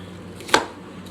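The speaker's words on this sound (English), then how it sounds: "Right now I'm just chopping up some onion." A single sharp knife chop through onion on a cutting board, crisp and close, over a quiet kitchen background.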